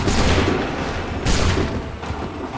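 A musket volley fired on command in Assassin's Creed III, heard as loud, dense crackling bursts of massed shots: one heavy volley at the start and a second at about the midpoint, with no talking.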